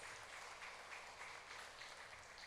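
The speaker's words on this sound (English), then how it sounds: "thank you for that round of applause" Applause from the audience at the Choctaw Nation Princess Pageant, a steady even wash of many hands clapping throughout, fairly distant and uniform with no voices on top.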